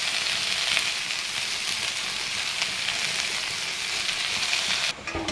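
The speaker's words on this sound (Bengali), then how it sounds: "শাকটা ভাজা হয়ে গেছে" Greens (saag) frying in a pan, producing a dense, continuous close sizzle that holds steady for about five seconds before dropping off abruptly, with no speech.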